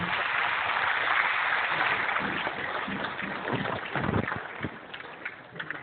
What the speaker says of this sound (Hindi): लाइफ टाइम अचीवमेंट की तरह तालियां बजनी चाहिए